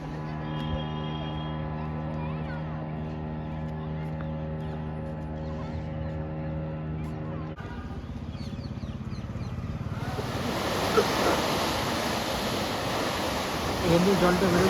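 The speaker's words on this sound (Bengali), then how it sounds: "এমনি জলটা বেরোচ্ছে, ফোর্সটা দেখুন জলের" Forceful gush of clean water at a site in Deogarh, a dense, steady broadband rush that swells and grows louder and brighter partway through, with a low tonal hum underneath early on.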